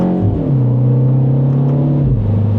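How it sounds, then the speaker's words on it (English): A 2026 Mini JCW two-door's exhaust in sport mode drones loud and close under steady throttle, its tone rising slightly then dropping as the revs change, with no talk over it. "with it in sport mode, that exhaust sounds pretty good too"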